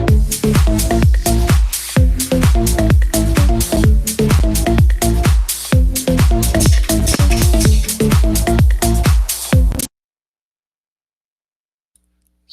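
A dance music track pumps at a steady tempo with a thumping four-on-the-floor kick, bright synth stabs and dense upper layers, loud and continuous for nearly ten seconds, then stops dead into silence.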